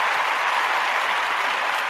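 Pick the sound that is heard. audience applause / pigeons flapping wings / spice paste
audience applause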